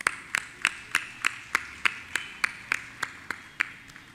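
A handful of claps ring out at an end-of-term event at The Doon Girls' School, thanking a student guitarist; the claps come singly in a steady rhythm, roughly fourteen sharp, bright hits spaced evenly, thin rather than a full crowd.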